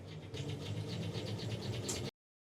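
A steady mechanical whir with fast, regular pulsing, like a sewing machine running continuously for about two seconds, then stopping abruptly, as it sews a wedding gown together.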